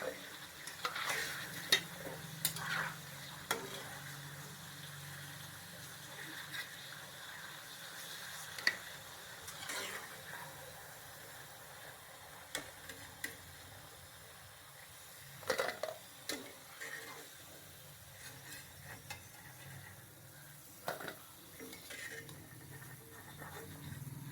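Sidukku savory frying in hot oil, a soft continuous sizzle with intermittent stirring clinks and scrapes against the pan, steady and close throughout.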